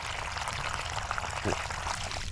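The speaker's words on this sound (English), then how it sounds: "the best part about using one of these water hoses is you can flood him out a little bit" Water from a garden hose pours into a mole hole in an orchard as a steady, fairly loud gurgling rush with a brief splashy burst midway, and no talking.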